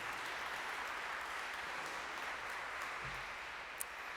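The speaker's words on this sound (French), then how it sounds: "Ça mérite l'applaudissement." Applause from a church congregation at the official opening of the summer season, a soft, even wash of many hands clapping that sounds somewhat distant and continues steadily for about four seconds.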